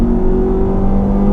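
A 2020 Mazda 3 with a 2.0-liter engine held at about 6,500 RPM against the brake before a launch, giving a loud, steady, droning engine roar at an unchanging pitch throughout, with no talking.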